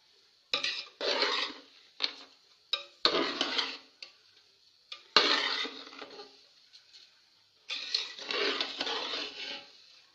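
Sweet mutanjan rice is stirred in a pot, giving bursts of scraping and clinking from the spoon against the metal, separated by short pauses, close and fairly quiet with no talking.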